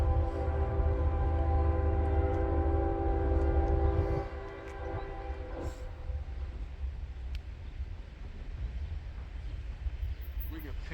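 A freight train led by two locomotives passes close by. A loud, sustained horn blast over heavy rumble fades after a few seconds into steady rolling clatter and rail noise.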